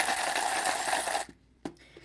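Coins from ice sales clink and jingle as they are handled, a dense metallic rattle for over a second, then a pause and one more sharp clink with some scattered jingling after it.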